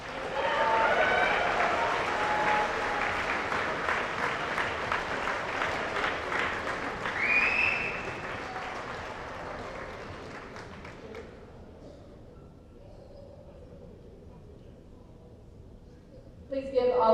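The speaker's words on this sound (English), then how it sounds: "Please give all our military class of 2022 a round of applause." Audience applause fills a senior honors convocation hall, loud and steady for about eleven seconds, then fades into quieter room noise before a brief burst of sound at the end.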